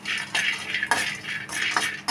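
Metal spoon scraping and stirring sesame seeds and cashews dry-roasting in a pan, making repeated bursts of rhythmic scraping, close and clear, with no talking.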